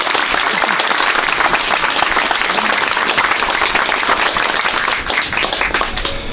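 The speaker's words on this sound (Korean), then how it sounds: "여러분 큰 박수 부탁드리겠습니다" A large crowd at a Syngman Rhee memorial gathering of current and former lawmakers claps vigorously, producing a loud, continuous roar of applause that persists throughout and eases only slightly at the end.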